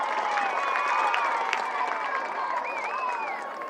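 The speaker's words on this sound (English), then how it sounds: "listen to this crowd" A West crowd roars and cheers at a 2017 Apple Bowl high school football game, a broad, steady wash of distant crowd noise with scattered whistles and shouts.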